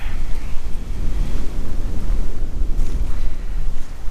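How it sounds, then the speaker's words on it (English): Wind gusting at night through a cemetery, a steady, broad rushing roar that buffets the microphone, loud and continuous with no voices. "as you might hear, the wind is actually starting to pick up"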